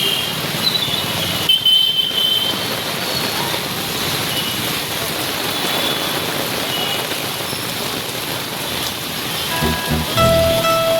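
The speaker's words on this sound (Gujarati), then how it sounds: "જોરદાર વરસાદ ચાલુ है" Heavy rain in Surat, likely heard from under an umbrella, pours in a loud, continuous wash of drumming on surfaces, with faint traffic in the background.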